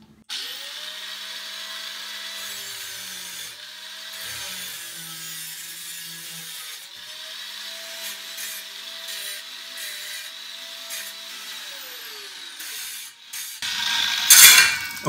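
A cutting wheel slices through an aluminum server rail clamped in a vise, a steady whining grind that holds for about twelve seconds before a brief harsher scrape at the end.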